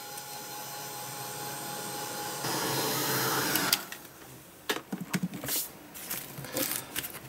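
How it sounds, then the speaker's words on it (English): A heat gun blows a steady, loud hiss over an art journal page, swelling louder partway through before cutting off, followed by scattered light clatter and handling noises. "just give it a quick blast with my heat gun"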